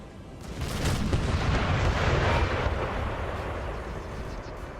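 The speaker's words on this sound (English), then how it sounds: "I'm seeing a lot of artillery shells hit the ground there." Artillery shells thud into the ground in a Napoleonic-era Total War battle, a dense, rumbling barrage of distant booms rolling over a continuous low roar for several seconds, with no one speaking.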